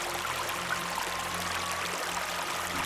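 Water in a stream rushes in a steady, broad hiss, moderately faint and constant throughout, with no voices or other sounds breaking in.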